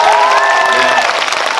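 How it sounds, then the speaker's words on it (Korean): Loud applause and cheering from a live-talk audience at a film screening event, mixed with a bright whistle-like tone and voices over the clapping throughout the short burst. "여러분 큰 박수 부탁드리겠습니다"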